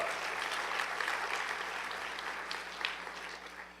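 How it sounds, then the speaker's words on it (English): An audience applauding the mayor at the 2014 Elmhurst Exemplary Youth Service Awards program, steady clapping from a crowd heard at moderate distance that slowly tapers toward the end. "you can applaud the mayor"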